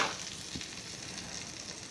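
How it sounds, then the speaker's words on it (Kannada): Mustard seeds and asafoetida sizzle steadily in hot coconut oil for a South Indian tempering, a continuous close frying hiss with a few small pops, no voices. "ಒಗ್ಗರಣೆಯನ್ನು ಹಾಕ್ತಾಯಿದ್ದೀನಿ."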